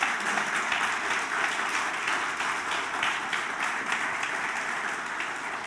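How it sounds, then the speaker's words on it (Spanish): A church congregation applauds steadily throughout, a dense and continuous wash of clapping from many hands at moderate distance, with no voices standing out. "¿Por qué no le das un aplauso al Señor?"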